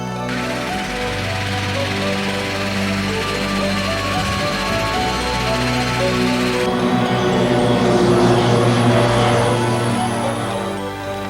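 A steady, loud engine drone fills the cabin of a plane climbing before a skydive, droning evenly throughout with no voices.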